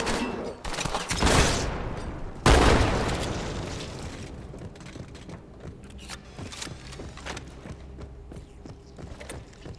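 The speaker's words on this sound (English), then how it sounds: "I can't remember the last time I actually double-wielded SMGs." Dual-wielded submachine guns fire in Halo 2 on the Sacred Icon level, with two loud bursts that sustain into rapid chattering, then a quieter run of scattered shots and clatter.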